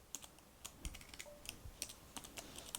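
Someone types a password on a computer keyboard: a quiet, irregular run of crisp key clicks, close to the microphone and with no talk.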